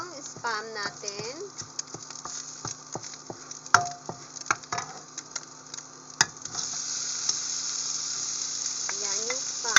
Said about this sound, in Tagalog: Pagkatapos nito, ilalagay natin yung spam natin.